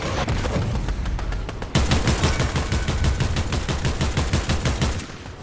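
Rapid automatic gunfire from a Fortnite match, a dense stream of loud shots that falls into an even, fast burst rhythm partway through and keeps going with no pause.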